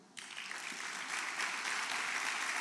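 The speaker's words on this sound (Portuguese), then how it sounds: "Vamos aplaudir a Ramon." A church congregation bursts into applause after a short quiet start, the clapping swelling steadily and staying dense and fairly loud to the end.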